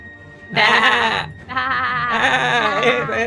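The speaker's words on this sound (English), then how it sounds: "There's just a bunch of sheep running away from a werewolf." Sheep bleat as a sound effect for a flock fleeing a werewolf, loud and close, with one long wavering bleat followed by a brief gap and then a longer, overlapping chorus of bleats.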